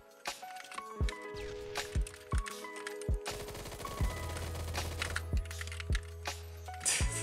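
Video game gunfire arriving as a series of sharp, punchy shots in irregular bursts with rattling mechanical clicks and layered game effects, fairly quiet overall with a low rumbling bed partway through.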